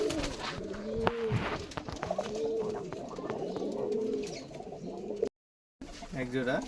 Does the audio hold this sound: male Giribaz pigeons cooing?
yes